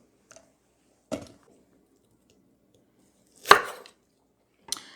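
Knife slicing Brussels sprouts in half on a cutting board, three distinct crisp chops spaced apart, close and clear with silence between, no voice.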